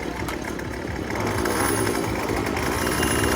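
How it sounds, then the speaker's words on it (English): A weed eater engine powering a margarita blender gives a loud, steady small-engine drone with a rough buzzing rattle, rising slightly in intensity partway through and running continuously. "they had a blender making margaritas that was powered by a weed eater"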